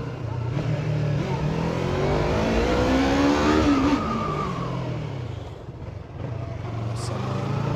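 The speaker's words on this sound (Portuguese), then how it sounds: "Até que tem escapamento daorinha, tá ligado?" A motorcycle exhaust revs and roars loudly up close, rising in pitch then falling back, with a rough engine rumble throughout.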